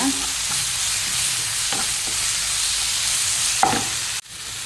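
Ginger, garlic and green chili paste frying with onions in a pan while being stirred, a steady broadband sizzle with a few soft utensil scrapes and a sharp clack near the end, close and moderately loud with no talking.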